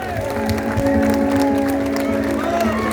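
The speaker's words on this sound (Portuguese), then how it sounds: "Vamos aplaudir o nosso Senhor Jesus Cristo" Dense applause from a crowd at a church service fills the space, steady and loud, with a sustained organ-like tone and voices underneath.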